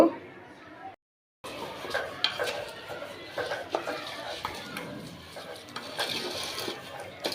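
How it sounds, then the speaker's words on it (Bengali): A potato, onion and green chili mixture is stirred in a pot, with scraping and soft sizzling clatter under ongoing talk, after a brief silent gap near the start. "এই যে সব কিছু একসাথে মিশিয়ে এখন একটা লাড়া দিয়ে দিব"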